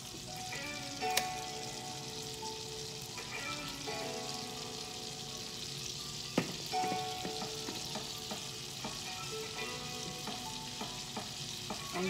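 Jumbo shrimps fry in a pan with a soft, steady sizzle, broken by occasional light clinks and scrapes of a utensil, heard quietly and close.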